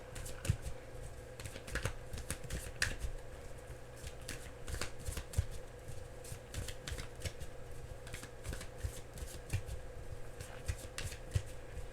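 Tarot cards are shuffled by hand in a quick, steady patter of crisp riffling flicks that repeat close by for the whole stretch, with a faint steady hum underneath.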